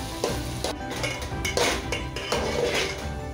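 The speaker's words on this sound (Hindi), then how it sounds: "अभी थोड़ा और चावल मेरा भुनाएगा।" Rice being roasted in a pot for paneer pulao, with a spoon scraping and stirring against the metal in uneven strokes over a soft sizzle, close and fairly loud, with no talking.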